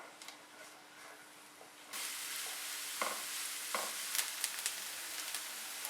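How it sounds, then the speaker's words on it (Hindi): Half a cup of chopped onions frying in oil in a pan, a steady sizzle that jumps louder after about two seconds, with a few stirring scrapes and clicks, close and continuous with no voices. "आधा कप चॉप प्याज, प्याज को तकरीबन 2 से 3 मिनट फ्राई करेंगे।"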